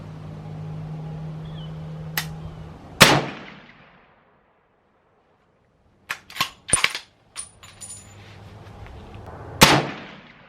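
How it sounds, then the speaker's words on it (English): Ruger Go Wild bolt-action rifle firing 300 Win Mag rounds at an outdoor range: two sharp, loud blasts a few seconds apart, then softer clicks and clatter of the bolt being worked, and another loud shot near the end. "I'm going to shoot at the upper right target."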